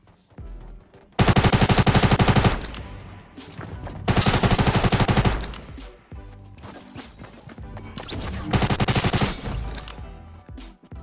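Tactical submachine gun in the Fortnite video game fires three long, loud automatic bursts of rapid, evenly spaced shots, each separated by a pause and followed by fading echoes and lighter clatter.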